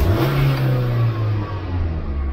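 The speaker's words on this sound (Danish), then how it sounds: "Koldstart af en 2021 Fiat Panda." A 2021 Fiat Panda engine idles after a cold start, a loud, steady mid-pitched hum heard up close with a slight dip and rise in revs and no voices.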